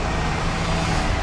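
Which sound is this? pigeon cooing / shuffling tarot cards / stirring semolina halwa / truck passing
truck passing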